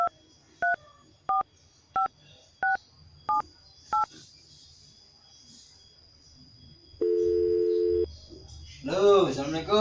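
Telephone keypad tones: seven short, evenly spaced dialing beeps, then a steady one-second tone, followed by a warbling ring as the call goes through, all clear and up close with faint background hiss.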